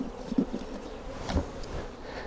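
A close, steady hum of honey bees swarms over an open hive full of frames, with a couple of faint knocks and rustles beneath the drone.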